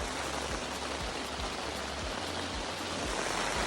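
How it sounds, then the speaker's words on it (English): Heavy rain pours steadily onto a tent during a flash-flood downpour, a dense continuous patter heard from inside with no voices. "Oh man, it is raining."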